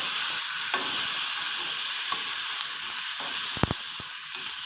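Tomato chutney mixture with curry leaves sizzling in a pan, a continuous close frying hiss with a few soft scraping stirs and clinks of the spoon against the pan.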